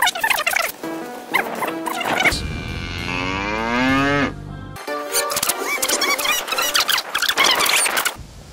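A long, wavering moo rises and falls for a couple of seconds between bursts of louder, cluttered sound that may be a man mimicking cattle; no speech is heard.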